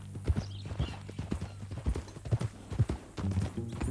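Horse hooves clip-clop at a steady walking pace, close by, with low rumbling in the background, in the video game Red Dead Redemption 2.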